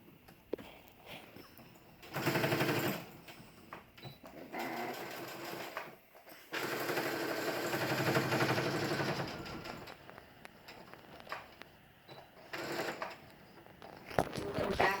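Sewing machine stitches a folded fabric edge in several short bursts of rapid mechanical whirring, stopping and starting between runs amid quieter room noise, close by.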